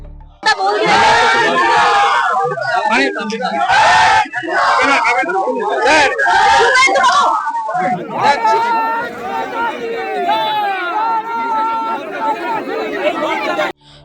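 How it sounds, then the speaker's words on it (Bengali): A crowd of Trinamool supporters shouts political slogans near the Belgachia dumping ground, with loud chanting and babble across the whole stretch and a second burst of voices from another side partway through. "তৃণমূল সমর্থকরা দিলেন গো ব্যাক স্লোগান অন্য দিক থেকে উঠল জয় শ্রীরাম ধ্বনি"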